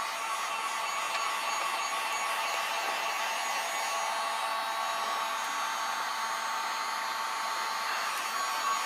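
Heat gun blowing a steady, unbroken hot-air roar while shrinking heat-shrink tubing on wiring of a Harley-Davidson XG 750 Street motorcycle brake switch, close and constant throughout with no talk.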